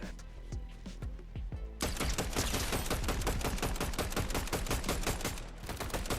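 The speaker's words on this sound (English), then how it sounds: "Just shooting a guy behind a wall that you can't even see." Gunfire in the video game Fortnite: a few spaced shots open, then a loud, dense burst of rapid automatic fire rattles on continuously for several seconds with no talking.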